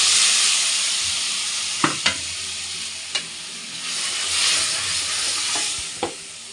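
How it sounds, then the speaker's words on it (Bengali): Spice paste hitting hot oil in a pan, sizzling steadily with a bright hiss, broken by a few sharp clinks of a spoon stirring against the pan. "এখন এই মশলাটাকে, এই দেখো এই মশলাটাকে আমি তেলের উপরে দিয়ে দিই।"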